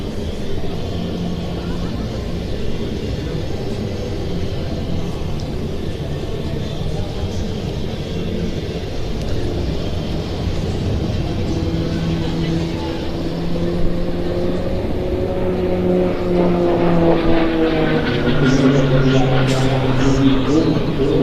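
At a Czech Air Force and NATO Days air show, an aerobatic aircraft flying a vertical roll into a stall turn drones at a distance, its engine note rising and shifting in pitch beneath an announcer's continuous commentary.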